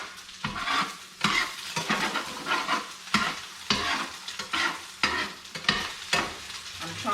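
Ramen noodles fry and sizzle in a pan while being stirred and tossed, with repeated scraping strokes and bursts of sizzling at a steady rhythm, close and fairly loud, with no talk.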